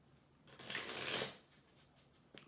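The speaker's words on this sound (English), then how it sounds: "Give this third deck a couple more shuffles" A deck of tarot cards gets a single riffle shuffle, a soft, close papery flutter swelling and fading within a second, then a faint tap as the cards settle.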